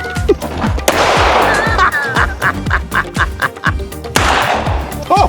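Revolver shots from a S&W Victory .38 and a S&W Model 10 ring out close and loud, a couple of sharp bursts among bright, honking, quack-like sounds, without talk.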